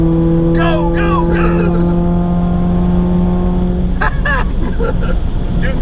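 A modified Chevrolet Cobalt Coupe accelerates hard at full throttle in Texas, its engine note rising steeply through the revs, dropping briefly at a gear change, then climbing again, loud and close.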